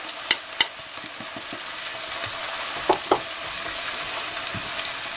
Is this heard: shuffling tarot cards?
no